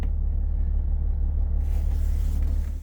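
Air suspension on a 2020 Cornerstone RV raises the body into high ride mode with a deep, constant rumble and a faint hiss that shifts partway through, heard close and alone.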